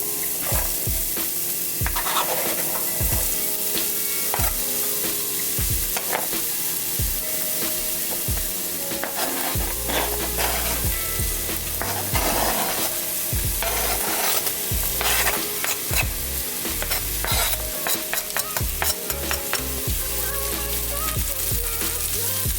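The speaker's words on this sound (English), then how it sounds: "we're going to saute our vegetables for a bit" Vegetables sautéing in hot oil in a pan for chipotle creamy pasta: continuous sizzling throughout, with frequent close stirring and scraping strokes.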